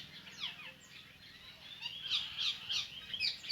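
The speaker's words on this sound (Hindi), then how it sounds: "आप सुन पा रहे होंगे परिंदों की चहचहाट।" Several birds chirp and call around a sacred banyan tree in a grove at midday, with sweeping whistled notes that build to busier, louder chirping toward the end.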